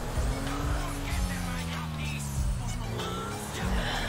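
A car engine drones steadily with shifting pitch as it drives, a continuous close rumble with no pauses.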